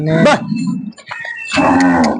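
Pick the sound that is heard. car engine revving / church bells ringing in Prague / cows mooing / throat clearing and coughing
cows mooing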